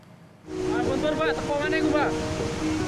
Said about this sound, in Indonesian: Inilah detik-detik saat banjir lahar hujan Gunung Semeru menerjang kawasan Sungai Besuk Lanang, Desa Supit Urang, Pronojiwo, Jawa Timur.